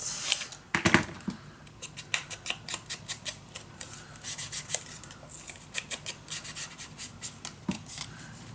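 Scissors snipping through a sheet of paper for a scrapbook mini album, a run of quick, crisp cuts in an uneven rhythm, close and fairly loud, with soft rubbing and handling noises between snips.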